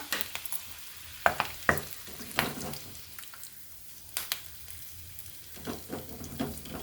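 Curry leaves go into hot oil with ivy gourd, crackling and sizzling as a spoon stirs through the pan, with scattered sharp pops and scrapes at an irregular pace, close and moderately quiet.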